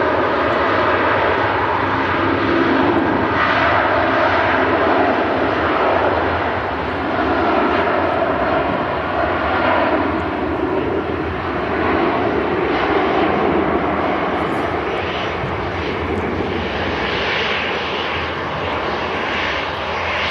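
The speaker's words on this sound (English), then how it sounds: "love the sort of buzzsaw noise it makes, where the tip of the fan blades goes transonic and it makes that buzzsaw noise" Rolls-Royce RB211 jet engines on an Icelandair Boeing 757, a continuous rasping roar with a buzzsaw edge from the fan blade tips, steady and loud with slow swells, no talking.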